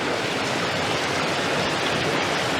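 Waterfall at Ogwen below Tryfan in North Wales roaring as a dense, steady rush of white noise, loud and close, filling the scene without pause and without talk.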